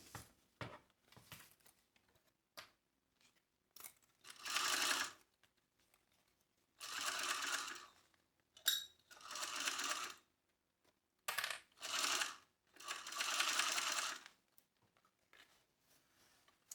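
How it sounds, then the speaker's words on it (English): A sewing machine stitches a quarter-inch seam along a fanny pack, running in several separate bursts of a few seconds each, broken by short pauses, small clicks and handling, close and clear, with no talk. "we're gonna just sew over this entire thing at 1/4 of an inch seam allowance from one end to the other"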